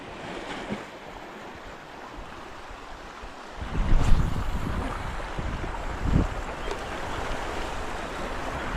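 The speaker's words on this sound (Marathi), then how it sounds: "इकडे बघताय हा समुद्र आहे अरबी समुद्र" Arabian Sea waves wash and break steadily at a creek mouth near Devgad, with a louder surge midway, under a constant rush of wind and no voices.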